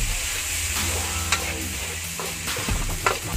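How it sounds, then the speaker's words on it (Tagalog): Garlic sautés in a pan until browned, a continuous close sizzle and crackle with a few clinks of stirring, heard alone without talk. "Kita ko muna natin yung garlic hanggang mag-brown"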